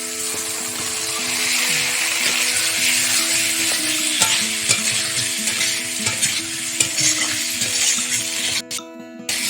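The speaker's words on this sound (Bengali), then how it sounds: "আলু মশলা দিয়ে কিছুক্ষণ ভেজে নেব" Vigorous sizzling of boiled potatoes frying in spice paste in a pan, with repeated stirring and scraping, a low steady hum underneath, cutting out briefly near the end.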